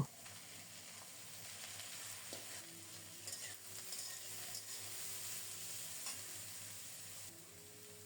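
Blanched vegetable stalks fry in a pan for a Bengali chorchori, giving a soft, continuous sizzle with faint stirring scrapes, heard alone and fairly quiet throughout.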